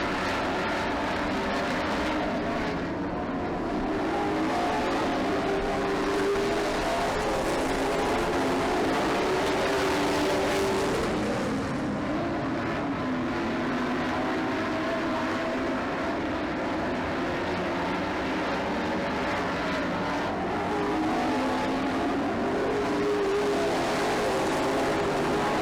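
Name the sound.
race cars on a racing track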